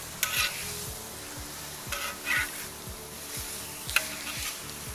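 No-beef burger patties sizzle steadily in a hot pan after being flipped, a constant close frying hiss with a few louder spatula scrapes and a faint rhythmic low ticking underneath, with no talking.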